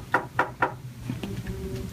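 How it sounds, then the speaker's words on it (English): Three sharp knocks on a patient's hospital room door, evenly spaced and close, followed by quiet room ambience. "I'm gonna knock."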